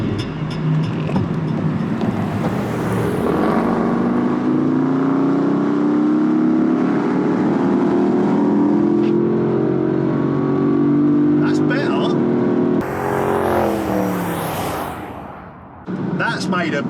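Two Land Rover Defenders, a D350 and a V8, accelerate hard from a standing start, engines roaring and climbing steadily through the gears in a loud sustained drone, with a voice speaking over the engine noise.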